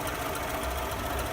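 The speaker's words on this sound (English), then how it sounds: "There it goes, idling up a little bit." A car engine idles during an alternator test, a steady low rumble with a faint mechanical rattle and no talk over it.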